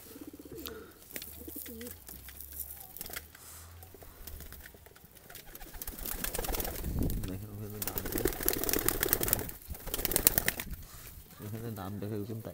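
Tula pigeons coo in a home loft, with soft rolling coos and occasional wing flaps that build in loudness, all under someone talking close by.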